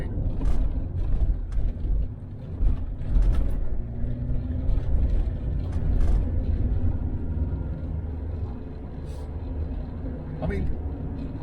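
A Range Rover Classic P38 with air suspension rumbles over a bumpy road, a low uneven engine and road drone with knocks and jolts, while someone talks over it.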